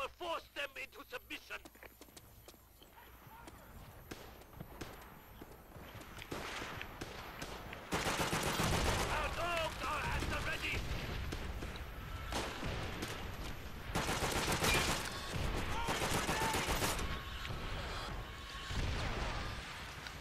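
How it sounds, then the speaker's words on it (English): An artillery strike in the video game Call of Duty: World at War brings a chaotic run of booming blasts, crashing impacts and gunfire, loud and dense across the middle and later stretches, with a voice speaking at times. "Let's call in the artillery strike."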